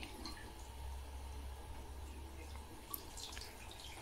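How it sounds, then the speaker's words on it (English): Water trickles and drips into an ATLAS Filtri Duplex Plus 3P SX water filter housing as it slowly fills, a quiet, steady liquid sound with a faint low hum underneath and one brief sharper splash near the end. "open it up and slowly start to put water in"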